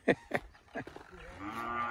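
A cow in a corral gives a long, low moo after a few short knocks and shuffles nearby, the call rising and holding steady, close and fairly quiet.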